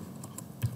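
A few light clicks of a computer keyboard during a computer lab session, quick and close, over a soft room hum.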